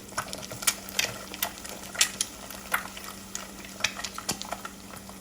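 Onion goes into a pan of frying bacon for fried rice, with steady sizzling under a string of sharp utensil clicks and scrapes against the pan, close and fairly loud.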